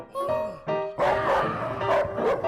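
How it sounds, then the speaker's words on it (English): A fierce dog barks in a rapid series of sharp, close, loud barks and yips, several bursts in quick succession with brief gaps between them. "This dog is so fierce that Bobo almost wets his pants"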